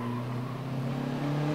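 A Mazda drag racing car at a spectator drag event at Rockford Speedway holds a steady, loud engine drone with a slight rising pitch. It sounds fairly distant and continuous, and no clear gear shift or voice stands out in the short stretch.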